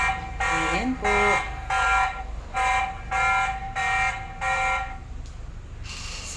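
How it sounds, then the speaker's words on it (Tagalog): A CCTV security alarm gives a loud electronic beeping in a steady series of evenly spaced tones inside a building, with a person speaking briefly over it. "Ayan, tumutunog si CCTV."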